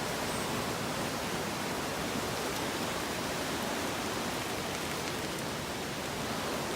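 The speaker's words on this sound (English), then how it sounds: "And in the rainforest, it's raining" Steady, dense rainfall hisses evenly through a Borneo rainforest, a constant broadband wash with no voices.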